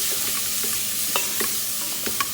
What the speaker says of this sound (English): I use my wooden spoon to help break it up. Stir that around.